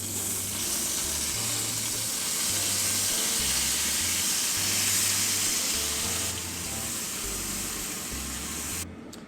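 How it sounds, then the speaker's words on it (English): Curry paste sizzles steadily in hot oil over lowered heat in a home kitchen, a loud continuous frying hiss lasting throughout with faint stirring underneath. "I'm gonna use the same oil to fry the paste"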